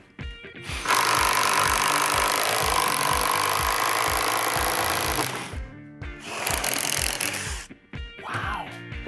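A Kobalt brushless impact driver turns a half-inch self-feeding spade bit through wood. It rattles and hammers loudly and close by in one long burst of about five seconds, followed by two shorter bursts, with no talk.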